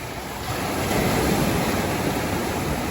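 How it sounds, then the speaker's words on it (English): Ocean surf breaks along a beach on a fine day with cold water, a steady broadband wash of waves close by with some wind rumble and no talk. "Lots of waves in today."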